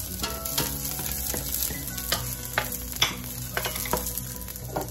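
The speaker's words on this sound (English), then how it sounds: "going to saute garlic and onions" Garlic sautéing in oil for a pork menudo, heard as a constant close sizzle with irregular clinks and scrapes of a utensil stirring in the pan, no voices.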